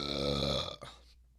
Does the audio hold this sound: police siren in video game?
no